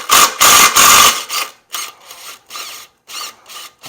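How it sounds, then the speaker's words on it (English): Someone loosens the blade bolt on a McLane reel edger, producing loud, close rasping ratchet strokes: three long pulls, then a run of shorter rhythmic bursts separated by brief silences. "Let me see if I can go ahead and back off on that bolt."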